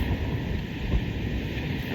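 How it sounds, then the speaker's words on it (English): Strong wind blowing outdoors, a loud, gusty low rumble buffeting the microphone, swelling briefly near the middle of the short stretch. "It's very windy."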